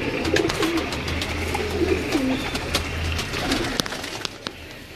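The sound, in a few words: pigeons cooing on a rooftop loft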